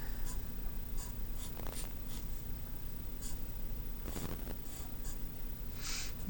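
A pencil scratches and sketches lettering on paper in short strokes, faint and close, under a steady background hiss, with a few breaths audible.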